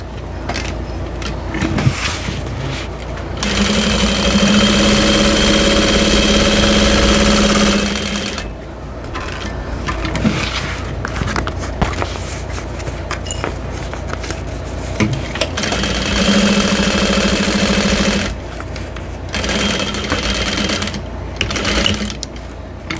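A sewing machine stitches a seam on a bowler bag in two long steady runs of motor hum and rapid needle chatter, loud and close, separated by brief pauses with handling noise and no talking.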